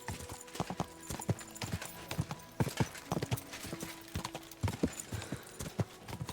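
Horse hooves gallop at full speed in the video game Kingdom Come Deliverance 2, a rapid, steady clip-clop rhythm of sharp close impacts running throughout without talk.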